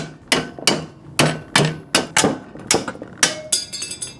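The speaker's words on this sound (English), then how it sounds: "Next job, tap all the metal." A hammer taps sheet metal on a 7.5-ton truck body being converted into a camper, giving about a dozen sharp, ringing metallic strikes in an uneven rhythm, close and loud, with no talk.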